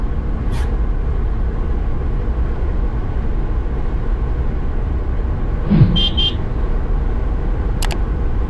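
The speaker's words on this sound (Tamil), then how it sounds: "நான் ஆக்சிலேட்டரை ஃபுல்லாக அழுத்தியிருக்கேன்" A car held at full throttle in fourth gear at around 4,000 rpm gives a steady, loud engine and road drone throughout, with a brief horn-like toot near the end.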